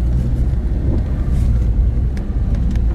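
A Lada Niva 4x4 engine labours as the car climbs a small hill, a loud, steady low rumble close to the microphone with a constant droning tone throughout.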